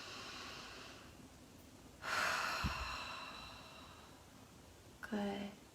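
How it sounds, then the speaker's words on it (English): A slow, deep breath drawn in and let out during a guided relaxation, an audible inhale followed by a softer exhale over light background hiss, with a voice speaking briefly. "Deep breath in."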